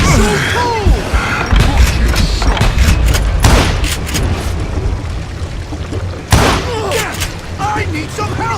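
Gunfire in the Call of Juarez: Gunslinger Western shooter, loud shots and booms scattered through the scene with sharp blasts near the start and a heavy crack late on, under shouting voices and game music.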